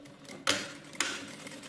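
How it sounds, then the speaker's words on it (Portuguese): Sewing machine stitching a finishing seam on fabric, two short sharp mechanical bursts about half a second apart over faint background hum. "vou fazer uma costura com um pé de máquina ou 1 centímetro só para fazer o acabamento"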